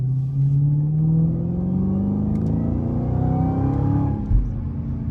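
A Dodge Challenger Hellcat engine climbs in pitch as the car accelerates onto a highway, a steady close rumble building through the run with a brief thump near the end.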